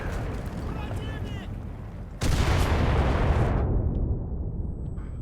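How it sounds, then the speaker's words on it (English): Machine gun fire in the World War II shooter game Enlisted during the Battle of Berlin: a dense, loud roar of bursts and explosions that swells sharply midway, then drops off, with a voice talking over it. "That machine gun position caught me entirely by surprise as well."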